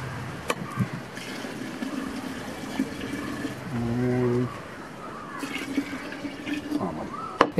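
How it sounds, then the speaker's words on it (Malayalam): Water is poured into a glass aquarium tank holding yeast and sugar for homemade wine, giving a brief gurgling splash midway through, with birds and faint outdoor background around it. "അടുത്തത് നമ്മൾ വെള്ളം ഒഴിക്കുകയാണ് അതിനകത്തോട്ടെ"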